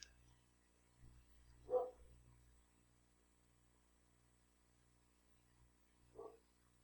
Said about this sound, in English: I wish the dogs would stop barking